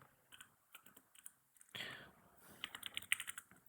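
Quiet clicks of typing code on a computer keyboard, scattered taps followed by a short burst of quicker keystrokes, faint and close with no talk.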